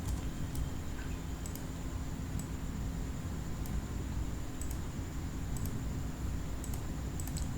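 A few computer keyboard keys are pressed in sparse, faint clicks over a steady background hum.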